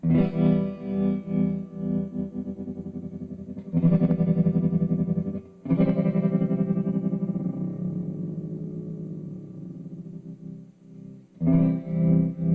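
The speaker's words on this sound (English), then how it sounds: "the tremolo is as much in the mix as it could be here" An electric guitar plays sustained chords through an Electro-Harmonix Pulsar tremolo pedal, the volume wavering rhythmically, with brief pauses between phrases.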